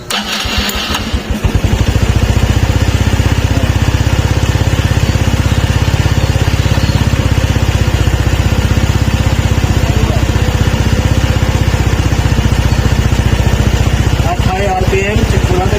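A Honda Wave 110 motorcycle with a charging fault starts and then idles close by, a loud steady mechanical chugging that runs nearly the whole time, with someone talking over it.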